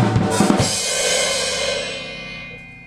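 Improvised advanced drum fill on a full kit, opening with a flam and kick before quick alternating hand strokes, loud and close with sharp hits and crash wash decaying over about three seconds.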